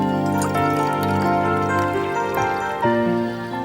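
Water poured and stirred into yogurt while preparing a mint chaas drink, a close, steady liquid trickle and splashing that carries on alone without speech, with a few louder shifts near the end.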